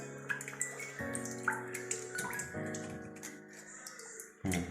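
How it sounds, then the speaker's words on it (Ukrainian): Water drips and trickles while filters are cleaned during a children's room repair, with faint splashes and ringing watery tones, fairly quiet and close. "і крапає водичка"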